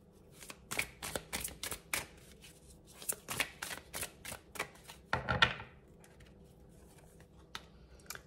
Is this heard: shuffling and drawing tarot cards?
yes